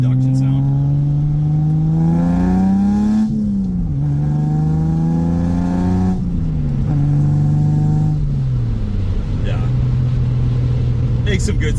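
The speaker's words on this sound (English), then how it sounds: "See if we can get some induction sound." A 1973 Datsun 240Z engine drones steadily up close, its intake induction note rising, dipping and surging through a few rev changes.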